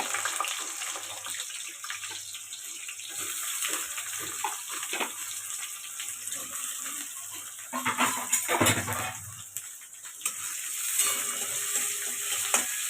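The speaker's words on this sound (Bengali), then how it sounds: "তেল গরম হয়ে গেছে, আমরা দিয়ে দেবো দুটো তেজপাতা, দিয়ে দেবো পেঁয়াজ" Onions and bay leaves fry in hot oil in a pan, a steady hiss and bubbling sizzle running throughout with occasional louder surges, fairly quiet and without speech.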